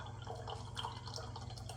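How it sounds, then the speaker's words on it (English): Steeped tea pouring from a pitcher or steeper into a jug, a soft continuous trickling and splashing of liquid, faint and steady throughout. "Pour it into the jug. You can see the tea coming out there."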